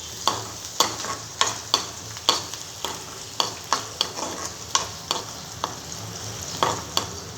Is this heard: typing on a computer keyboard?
no